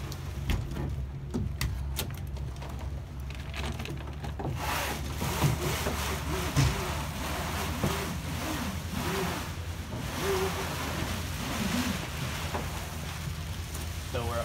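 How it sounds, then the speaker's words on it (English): Spinnaker being hoisted on a VX-One sailboat, rope running with steady rubbing and creaking against a constant background of wind and water, several louder pulls standing out. "So we'll do a hoist real quick."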